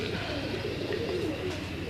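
Jugnu pigeons coo continuously nearby, a soft rolling murmur from several birds, with faint background noise.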